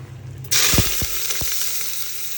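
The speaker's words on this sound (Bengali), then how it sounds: "আমি রান্না করব আর কি প্রেশার কুকারে তো একটু পেঁয়াজ কুচি দিয়ে দিচ্ছি" Chopped onions hit hot oil in a pressure cooker and burst into a loud, sudden sizzle that keeps frying steadily, with a few clanks from the pan.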